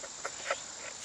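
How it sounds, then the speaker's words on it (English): Cicadas buzz in summer heat, a thin, continuous high-pitched drone sitting faintly in the background with a few soft ticks. "You can hear the cicadas"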